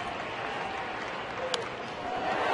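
Spectators in a baseball stadium, some 28,000 people on their feet, keep up a steady wash of applause and crowd noise beneath close commentary.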